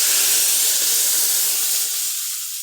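Ground coriander leaf paste hits hot cumin-tempered oil in a pan, setting off a loud, bright sizzle and hiss that starts strong and slowly fades as the wet paste settles.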